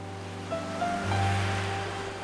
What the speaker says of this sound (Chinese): 让那个浅浅的海浪和浪花